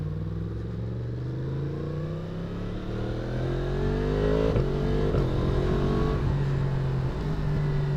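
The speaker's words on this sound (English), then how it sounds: "I love that quick shifter and auto blipper." A 2024 Yamaha MT-10 motorcycle accelerates hard through the gears with its quick shifter, the engine note climbing in steady rising sweeps broken by crisp, quick shifts, loud and continuous with no talk.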